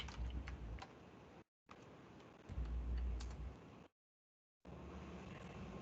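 A computer keyboard sits very close to the microphone during an online class, with bursts of clicking keystrokes and thumps broken by two short silent gaps.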